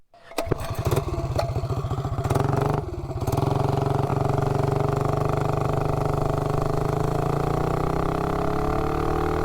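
A mini bike engine fitted with 12 inches of extra exhaust pipe sputters through a few rough starts, then settles into a loud, steady run that gradually rises in pitch, close to the listener.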